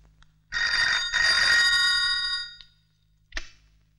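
An old telephone rings in a household, two long loud trilling bursts of bell ringing, then a brief clipped ding after a pause.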